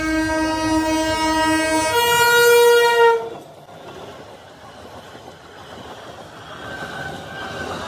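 A train sounds a loud, sustained multi-tone horn for about three seconds, then cuts off, leaving a steady rumble of the train moving nearby, with another faint horn note near the end.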